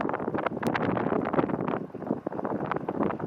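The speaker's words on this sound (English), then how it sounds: "because it's really windy." Steady wind buffets the microphone in the North Dakota Badlands, a constant rough rumble with gusty fluctuations throughout and no voices.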